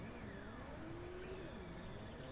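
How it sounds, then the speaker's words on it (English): A car drives in the video game Cyberpunk, with a steady engine drone and shifting pitch, tires hissing beneath, and faint voices in the background. "Now we're driving our car."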